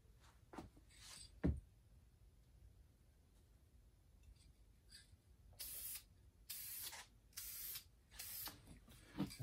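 A spray gun lays clear coat over flake paint on a bobber motorcycle part in short, close hissing bursts, several in a row, each lasting about a second. Quieter clicks and handling noises come between the bursts.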